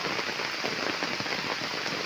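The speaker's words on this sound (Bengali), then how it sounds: "আবার জোরে বৃষ্টি আসছে" Heavy rain falls in a village, a loud, unbroken rushing patter of drops on nearby surfaces, steady and close throughout with no voices.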